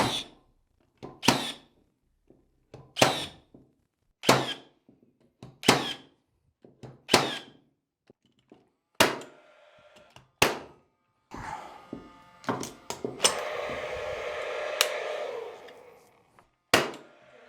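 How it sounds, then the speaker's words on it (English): A Hikoki 16-gauge straight second-fix brad nailer shooting brads into pieces of timber, giving about a dozen sharp, close thunks spaced a second or so apart, with some handling noise and a brief rattling burst near the end. "I'm going to start off with the straight Hikoki second fix running a 16 gauge brad, and we'll just do a shot into each piece of timber."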